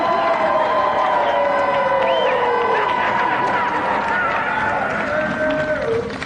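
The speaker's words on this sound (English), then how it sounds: "Round of applause, please, but not too loud." A studio audience at a 1994 television video game show cheers and applauds loudly and continuously, a dense crowd roar with occasional whistles rising through it.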